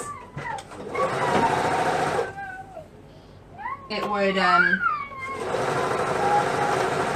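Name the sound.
serger sewing elastic onto pants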